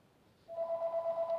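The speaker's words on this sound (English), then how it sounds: "Please ignore the phone, because I don't know who that is." A telephone rings with a steady electronic tone from just past the half-second mark to the end, moderately loud in a quiet room, with no talking.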